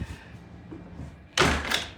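A door swings shut and is eased closed rather than slammed, giving a single soft thump with a brief rustle after it, heard close in a quiet room after low background murmur.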